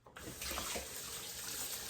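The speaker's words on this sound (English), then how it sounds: "I'm going to wash my hands again" Water runs steadily from a kitchen sink tap as hands are washed while baking, a continuous close hiss and splash that starts abruptly and stays even throughout.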